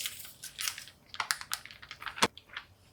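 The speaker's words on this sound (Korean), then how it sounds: "일단 비닐 지퍼백에 다진 마늘을 넣어주세요." Minced garlic being pushed around inside a plastic zipper bag gives soft crinkling and crunchy squishing rustles, close and fairly quiet, in a loose irregular rhythm with no voices.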